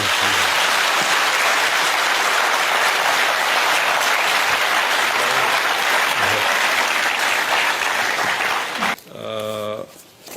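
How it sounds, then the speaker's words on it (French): Audience applause at a conference honoring a Burkinabe speaker: a loud, dense, sustained ovation filling most of the stretch, then cutting off as a voice begins speaking near the end. "On va faire un tonnerre d'applaudissements par..."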